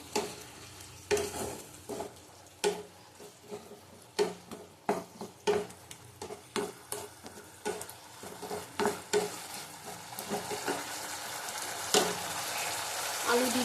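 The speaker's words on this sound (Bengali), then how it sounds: "দেখো টমেটো দিয়ে দিলাম এবার পরিমাণ মতো নুন দেব ভালো করে কষিয়ে নেবো" Potatoes and green plantain with tomato and salt being stirred in a pan, a sizzling fry base broken by frequent scraping spatula strokes in an uneven rhythm, close and fairly loud with no talk.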